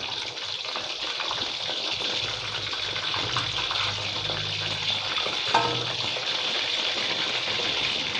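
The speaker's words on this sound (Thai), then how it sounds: "น้ำมันก็จะเดือดประมาณนี้ครับ" Continuous crackling sizzle of pork neck frying in bubbling hot oil over medium heat, steady and close, with occasional soft stirring sounds.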